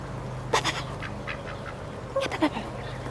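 Ducks quack in a few short bursts, close by, with a person talking softly between the calls.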